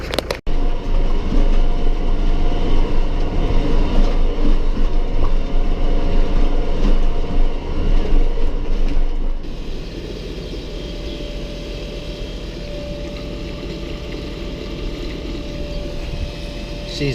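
A tractor engine runs steadily with a spray rig attached, a loud, close, continuous drone with heavy low rumble that drops to a lower, steadier idle partway through, no speech heard.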